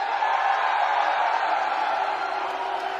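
A large crowd roars and cheers continuously at a UFC 285 event in Las Vegas, a dense, sustained wash of voices that stays loud throughout.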